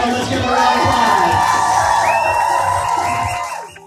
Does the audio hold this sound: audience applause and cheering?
yes